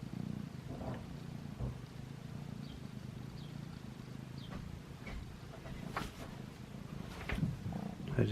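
A cat lying in its kitty tent gives a soft, low, continuous purr in a quiet room, broken by a few faint clicks and rustles.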